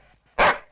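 A single sharp dog bark, loud and close, bursting out briefly after a quiet moment, with no talking over it.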